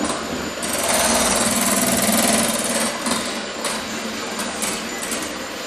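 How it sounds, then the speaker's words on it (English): An electric mixer beats eight egg whites toward stiff peaks, a continuous loud whirring buzz that swells and then holds steady, heard alone. "we're going to start beating the 8 egg whites"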